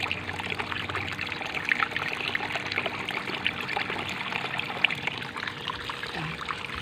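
Water trickles and pours steadily as it is rinsed clear on a farm, a soft continuous splashing that stays fairly faint and close with no talk.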